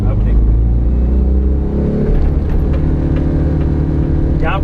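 A TATA Ace Mega XL mini truck held at full throttle in first gear, its engine giving a loud, steady low rumble that stays close and continuous, with a voice faintly present over it.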